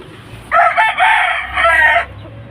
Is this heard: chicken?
yes